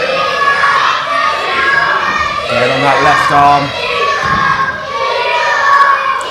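Spectators at a women's championship wrestling match in Maldon shout, yell and cheer continuously, a close, noisy crowd with a commentator talking over it.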